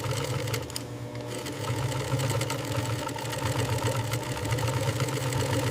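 An industrial sewing machine in a car factory stitches interior upholstery with a fast, steady mechanical hum and rapid needle chatter, close and continuous, briefly easing near the start before running on evenly.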